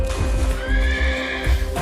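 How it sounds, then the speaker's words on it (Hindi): A horse, presented as the mythical Uchchaihshravas, gives a loud, close whinny that rises and falls over about two seconds, with a steady low rumble beneath it and a soft clip-clop of hooves. "उच्चैश्रवा घोड़ा"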